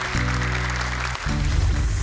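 Audience applause at a Quran recitation competition, a short, dense burst of clapping that breaks off briefly and then resumes.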